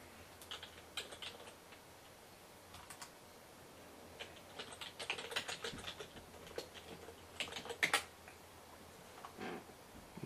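Command being typed on a computer keyboard, quiet close key clicks in irregular bursts with short pauses, growing a little busier toward the end.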